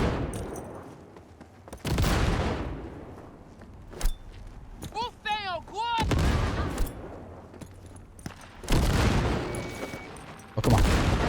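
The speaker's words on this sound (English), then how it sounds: "Oh, no grenades bouncing back at me." Grenades detonate in Cyberpunk 2077 as a series of loud booms and crackling bursts, spaced several seconds apart, with gunfire-like pops between them.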